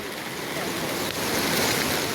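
A constant, dense roar of rushing water, loud and unbroken, from a flooded river in Konkan surging past close by and over the road.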